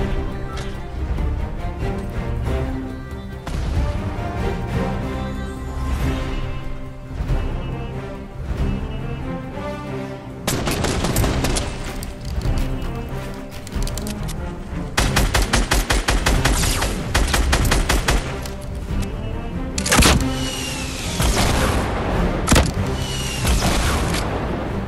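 Rapid bursts of gunfire and heavy booms from a Fortnite Battle Royale solo match, loud and dense, with automatic volleys and single shots layered over continuous in-game sound, sharper sustained firing in the second half.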